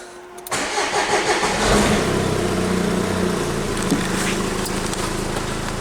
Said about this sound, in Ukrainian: зараз я пущу, подивлюся, як у нас працює двигун так. Зараз бомбоніти трошки буде, бо без фільтра.